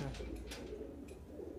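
Madrasi pigeons coo softly in low, soft, repeated calls at a pigeon keeper's loft in Sakurpur, Delhi, under a constant background hum.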